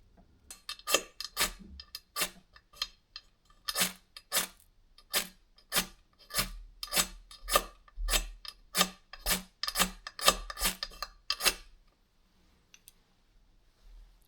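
A magnesium fire starter rod being scraped, a series of short, sharp rasping strokes close by, about a dozen in a steady rhythm, then quiet near the end.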